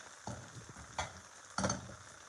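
A salmon steak sizzles faintly in a pan under a soft crackle, broken by three light knocks or clinks spaced about half a second apart.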